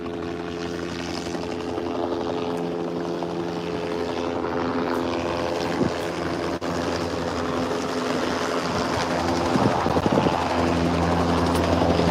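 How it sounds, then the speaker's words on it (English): A police helicopter at the scene of a shooting at a Fred Meyer store in Richland, Washington, thrums steadily overhead, its rotor drone loud and continuous throughout with no voices. "The chopper's here."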